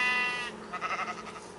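Sheep bleating in the video game Minecraft: one wavering, nasal blocky-game bleat, fairly close and clear, followed by a softer rumbling game noise, with no talk.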